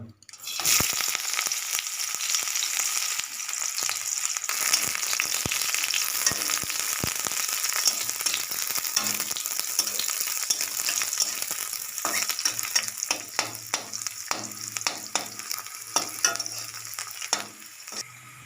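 River fish frying in hot, smoking oil in a wok for a fish curry, a loud, steady crackling sizzle with sharp pops and occasional stirring scrapes throughout.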